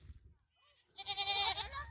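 Goats belonging to a relative, one of them pregnant, bleat at a rural farm in the evening. A loud, wavering, harmonic bleat starts about halfway through after a quiet stretch and runs to the end, with faint low rumble underneath.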